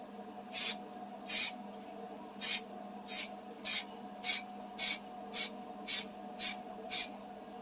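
Short hissing bursts of spray paint from a Revell aerosol can, about a dozen evenly spaced puffs over a steady low background hum.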